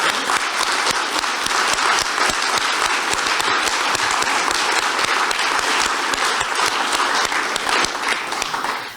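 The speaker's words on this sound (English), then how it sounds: "let's start with a huge round of applause for everyone who spoke at this podium" A full round of applause fills the room at a library dedication ceremony at CREC Montessori Magnet School, honoring the speakers at the podium. The clapping is sustained and even for about nine seconds, with no talking over it.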